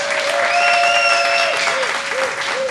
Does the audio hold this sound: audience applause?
yes